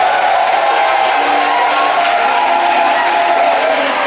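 Congregation at a church service applauding and cheering, a dense, steady wash of clapping and voices held at an even loudness throughout, with some raised shouts inside it.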